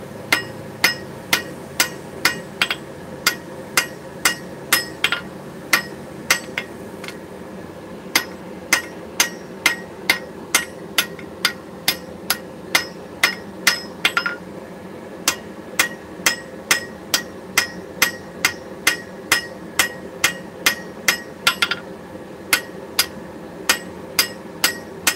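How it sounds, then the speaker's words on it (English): A hammer planishes a steel sheet with a long run of sharp, ringing metallic strikes at a steady, even rhythm, close and loud, with brief pauses between bursts. "I'm not really trying to move steel. I'm just planishing it to my liking."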